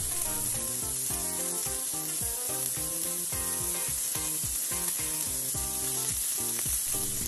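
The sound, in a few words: smash burger patty sizzling in pan after flipping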